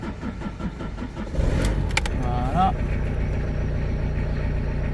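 A truck engine warming up at idle, its belt reportedly whistling from spilled fluid: a steady low idling drone with a brief surge partway through and a faint whine, with someone speaking briefly over it.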